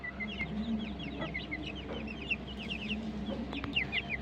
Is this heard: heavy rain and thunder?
no